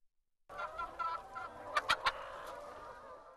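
Hens on a chicken farm in Kahramanmaraş, Turkey, raised for egg production, cluck and chatter steadily in a busy flock, with a few louder sharp squawks standing out, close and continuous with no talking.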